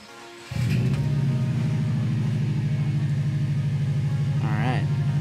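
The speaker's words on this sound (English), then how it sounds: "So let's hop in the car and start this thing." A 2013 Subaru Impreza WRX with the EJ255 turbo flat-four, freshly fitted with a new timing belt and water pump, cranks and fires up close by, then settles into a steady, loud, pulsing idle, with a brief voice-like sound near the end.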